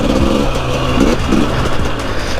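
A KTM 250 XCW dirt bike, a brand-new 2023 two-stroke, drones loudly up close as the rider shifts into third and back down to second, the engine note rising and dipping steadily.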